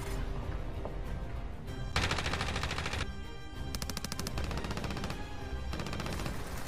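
Rapid automatic gunfire in the Call of Duty Warzone video game on the Verdansk map, several loud sustained bursts with short gaps between them, close and dense, without voices.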